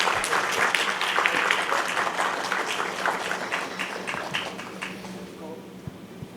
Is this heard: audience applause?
yes